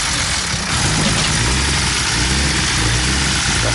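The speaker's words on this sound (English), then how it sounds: "as soon as I got finished doing the donuts, my engine ran like this" A BMW M54 inline-six runs rough after doing donuts, with a suspected oil pump nut fault; a loud, close, uneven idle rumbles continuously with a harsh, noisy roar and no voices.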